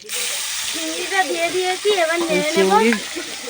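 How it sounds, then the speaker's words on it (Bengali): Prawns frying in hot oil while being stirred for a prawn curry with water lily stems, giving a steady close sizzle with a few scraping stirs, under a voice talking throughout. "চিংড়ি দিচ্ছি আর নেড়ে নিচ্ছে নেড়ে নে করে ভালো করে নেড়ে নে"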